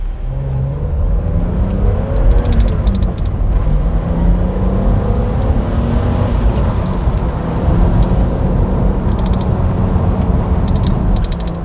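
A 1999 BMW E36 M3 Cabriolet with a six-speed gearbox drones continuously while being driven, its engine note rising and falling through the revs against road and wind noise, with no talk.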